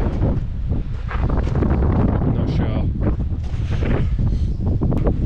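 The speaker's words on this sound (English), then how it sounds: "It's a bit windy" Steady wind buffeting the microphone outdoors, a constant roar with rumbling low-end gusts and some faint voices underneath.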